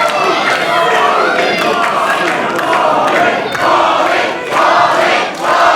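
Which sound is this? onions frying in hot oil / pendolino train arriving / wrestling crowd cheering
wrestling crowd cheering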